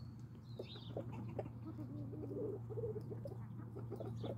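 A flock of chickens, roosters among them, clucks softly and intermittently in a quiet setting under a steady low hum, with faint scattered calls throughout.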